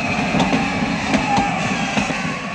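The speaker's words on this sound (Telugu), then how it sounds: "అయ్యో, ట్రైన్ స్టార్ట్ అయింది." A train begins to move in a station, with a dense rolling rumble and soft rhythmic clanks under a noisy background.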